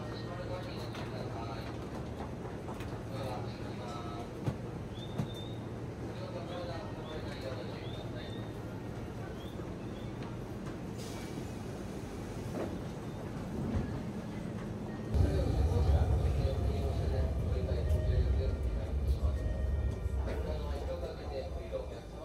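Keio Line commuter train at a crowded station during rush hour, with a steady rumble of the train and platform noise that grows louder near the end as doors open, while people talk nearby.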